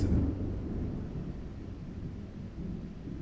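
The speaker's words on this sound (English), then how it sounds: "There's some thunder outside, guys." Thunder rolls outside during a storm, a low rumble that is strongest at the start and then fades into a long, faint growl, with no voices.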